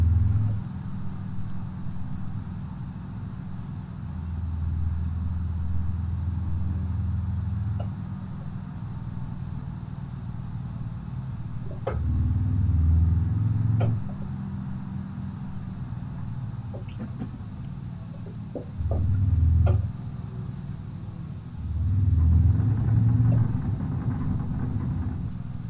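A fast six-speed car in BeamNG Drive accelerates through its gears: a steady engine drone climbs in pitch, breaks off at each shift and swells again, with faint clicks over it.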